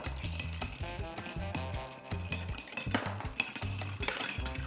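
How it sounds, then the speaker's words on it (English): Ice rattling and clinking in a mixing glass as a rum cobbler cocktail is stirred, a steady rhythmic churn of repeated knocks with bright clatter, close and continuous. "Now we're gonna stir again."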